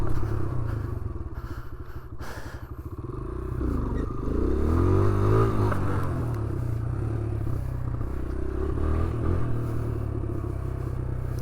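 A motorcycle engine drones steadily while someone rides and practises wheelies in poor weather on Long Island, New York, with a rising, revving surge in the middle and constant wind-buffeted rumble throughout.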